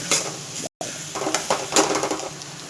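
Beaten egg and vegetables frying together in a pan for egg fried rice, a close sizzle broken by stirring scrapes and light pan knocks, with one brief dropout partway through; no voices.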